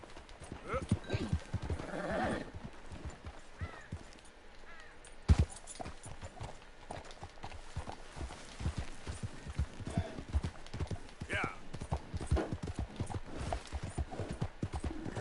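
Horse hooves clip-clop at a steady walking pace in the Red Dead Redemption 2 video game, rhythmic and moderately close, mixed with game voices talking over the top and a single louder knock midway.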